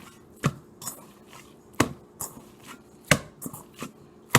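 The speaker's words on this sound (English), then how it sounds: "Mix that garlic in there." Garlic mixed into raw burger meat, with irregular soft thuds and squishy knocks scattered a second or so apart, close and fairly quiet, no talking.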